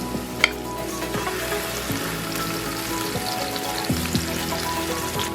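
Green onion sizzling in hot oil in a pan, a continuous close crackle and hiss with one sharp pop near the start and a faint low hum underneath.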